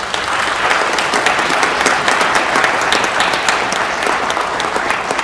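Loud, dense applause from an audience fills the space evenly for several seconds, a continuous wash of many hands clapping with no voices over it.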